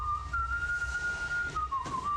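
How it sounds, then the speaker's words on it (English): A man whistles the US Air Force song, "Off We Go into the Wild Blue Yonder," holding one steady sustained tone before it wavers and slides near the end, heard alone over low background rumble. "he started whistling the Air Force song"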